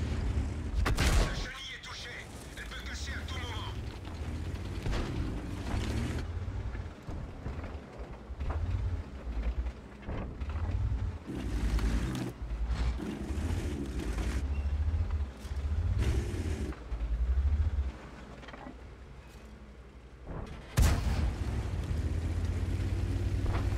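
Tank cannon fire in a World War tank video game featuring a Panther, with several heavy booms spread across the stretch, engine rumble and radio-style crew voices in between.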